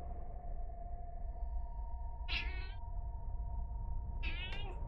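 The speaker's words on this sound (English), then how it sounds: "Yeah, get away from the microphone, you stupid cat." A cat meows twice close to a microphone, two short rising cries separated by about two seconds over a steady electronic hum and low background rumble.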